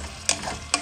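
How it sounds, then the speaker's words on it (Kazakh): Meat and sweet pepper fry in a pan while being stirred, a soft sizzle with two brief scraping stir strokes, close and quiet, no voices. "Піскен етімізге қосып 2 минуттай ғана қуырып аламыз."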